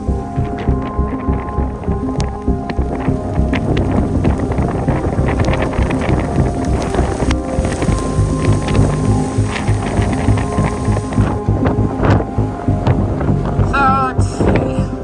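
Strong wind roars and buffets around a solo sailboat at sea in sustained mid-30s wind at night, with rattling rigging and crashing, rocking motion throughout, loud and continuous.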